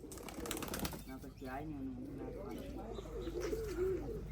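Pigeons at a rooftop loft coo in low, wavering calls, with a quick flutter of wings early on, heard faintly and at a distance under a quiet background.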